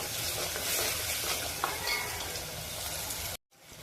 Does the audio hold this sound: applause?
no